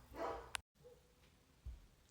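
Several dogs barking at home, a short burst of loud barks at the start, then quieter scattered barks and a low thump later.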